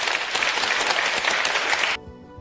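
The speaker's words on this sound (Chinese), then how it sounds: "接下来呢，就让我们用掌声来有请秦晖先生给我们进行今天的主题演讲" Loud, dense audience applause fills a lecture hall as scholar Qin Hui is welcomed to give a 2007 keynote on democratic welfare states, then cuts off abruptly, leaving a quiet room tone.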